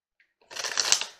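A deck of Law of Attraction cards is shuffled once in a quick, papery riffle lasting under a second, close and fairly quiet after a brief pause.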